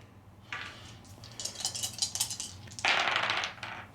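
Several dice rattle and clatter across a table during a Conquest: Last Argument of Kings wargame turn, Nords against Hundred Kingdoms, coming in a few close bursts with a louder final roll near the end.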